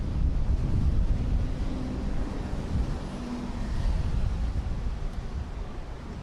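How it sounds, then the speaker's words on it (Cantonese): Strong wind buffets the microphone at an outdoor athletics stadium during a U20 men's 110 m hurdles final, a steady, loud low roar with gusty swells that fill the whole span, no voices. "間好大風。"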